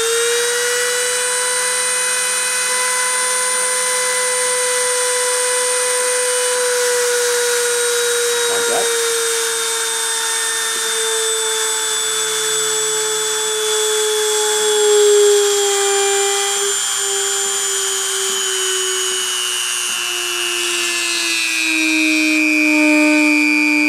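A high-speed spindle spun up to 30,000 RPM for a deposition run gives a steady, piercing drill-like whine with layered overtones. The whine holds for the whole stretch, drifting slightly lower in pitch toward the end.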